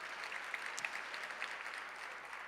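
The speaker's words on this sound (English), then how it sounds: "give him a round of applause." An audience at a DC budget engagement forum applauds, a soft, steady patter of many clapping hands heard from a distance for a couple of seconds.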